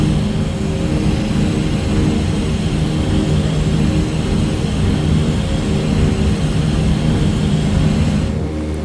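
Steady, loud drone of a DC-3 propeller airliner's engines climbing out of Coeur d'Alene, Idaho in a flight simulator, a continuous low hum holding level throughout with no talk.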